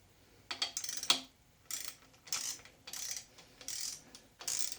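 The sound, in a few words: 1/2-inch torque wrench tightening main caps on small block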